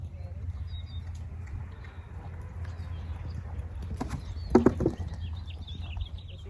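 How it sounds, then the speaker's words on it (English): A horse walks past an arena during a gaited-horse training session, its hoof clip-clop faint and irregular beneath steady low rumble, with a brief louder cluster of hoofbeats near the middle-late part. "There's a horse walking down"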